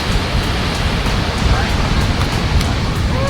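Ocean waves break while someone surfs at Machado, a dense, steady roar of rushing whitewash and wind that fills the whole clip with loud, unbroken noise.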